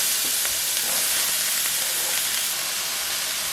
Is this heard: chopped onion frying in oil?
yes